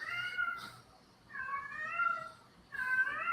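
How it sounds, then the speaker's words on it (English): A cat meows three times in long, drawn-out, wavering calls with short pauses between them, fairly close but not loud, with no talking over it. "the kitty has a lot to say about it"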